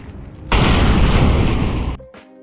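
An incendiary grenade going off in Counter-Strike 2 on the Nuke map's B site: a sudden loud burst that roars steadily for about a second and a half, then cuts off sharply into quiet.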